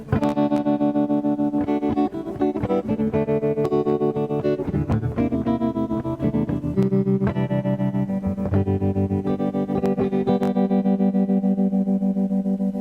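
Electric guitar played through distortion and effects, with notes and chords ringing continuously and a wavering, pulsing modulation in the sustained tones, loud and close throughout with no talking.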